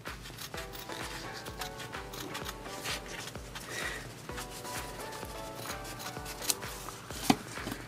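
Scissors cut a rectangle of fabric into a trench coat shape for a Lego minifigure, giving soft, close, rhythmic snipping and rustling with a couple of sharper clicks near the end, quiet and without talk.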